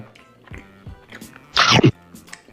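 A sweet-sour chewy milk candy is bitten and chewed up close, with soft mouth sounds leading into one loud, brief crunchy bite before quieter chewing resumes.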